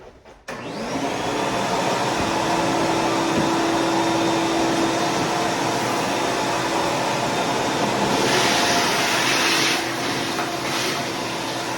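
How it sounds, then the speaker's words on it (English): A vacuum cleaner runs steadily and loud, sucking up leftover drywall dust along the top of a granite surface during a drywall repair, with a brief surge of airy hiss near the end and no talk. "Now what I'll do is I'll turn on my vacuum to suck up any of the dust here that is left along the top of the granite."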